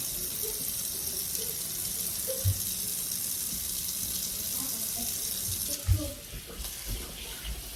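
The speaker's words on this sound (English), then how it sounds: "And then I'll cut a lime over it, rinse it one more time." Tap water runs steadily into a sink while ground beef is rinsed, with a few soft clunks and splashes from handling and a slight change in the flow near the end.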